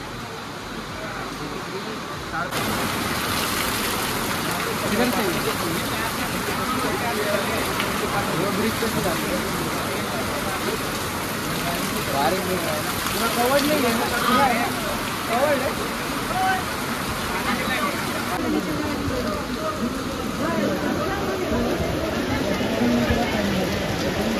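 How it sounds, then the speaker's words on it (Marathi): A very heavy, unexpected downpour at Omkareshwar near a bridge, a loud, dense, unbroken hiss of rain that runs steadily through the whole stretch. "आणि अनएक्सपेक्टेड असा खूप खूप खूप मोठा पाऊस आहे."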